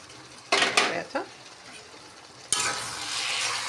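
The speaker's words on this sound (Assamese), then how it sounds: "এতিয়া লিডখন গুচাই চাওঁ" A metal pot lid lifted off during cooking of a pigeon meat curry, giving a couple of sharp clanks followed by a rising, steady sizzle and bubbling from the pan.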